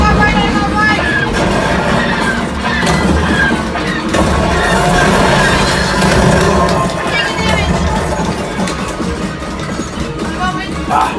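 Rumbling train-like effects inside the Millennium Falcon Smugglers Run ride, a dense, loud wash of mechanical roar and rattle with bursts of blaster fire, while riders and onboard voices talk over it.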